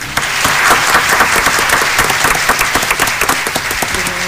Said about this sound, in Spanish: Quiero dar un fuerte aplauso a Alba Fuchs